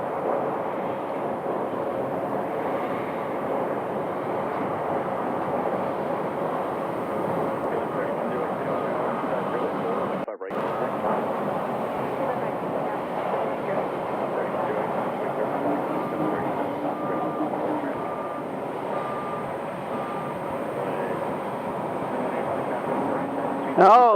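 A KC-135 military aircraft at Phoenix Sky Harbor Airport gives a moderate, continuous jet engine roar with faint tonal whine, heard from a distance with a brief dropout midway.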